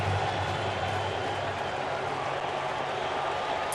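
A sellout baseball stadium crowd at a Cubs versus Cardinals 2015 playoff game roars as a steady, dense wash of noise, loud and continuous without distinct individual voices.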